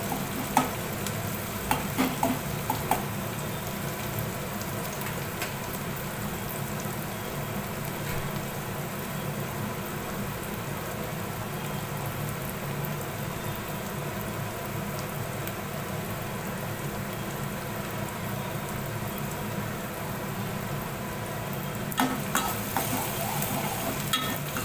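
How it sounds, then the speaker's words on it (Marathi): Sliced onions fry in oil for a chicken liver dish, a constant rain-like sizzle and crackle running unbroken at close range, with a few louder bursts of spitting near the start and end, no voices. "तेलामध्ये चांगला कांदा परतून घ्यायचा, गुलाबी होऊन द्यायचा कांदा तेलामध्ये."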